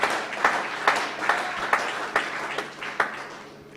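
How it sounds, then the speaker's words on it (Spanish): A church congregation breaks into rhythmic applause for the Lord, claps landing in steady bursts roughly twice a second, fairly close and full, with no voices standing out. "Un aplauso al Señor."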